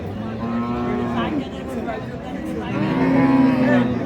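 Cattle low repeatedly at a busy livestock market in Ambari, Dinajpur, two long moos standing out over steady crowd murmur and chatter.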